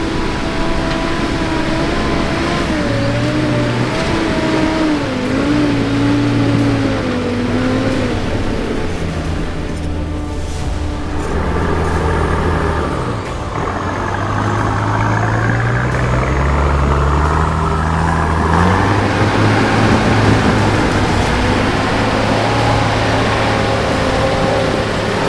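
A 4WD engine works hard in low first gear with both lockers engaged on a steep Blue Mountains track, revving up and down in long surges, loud and close throughout.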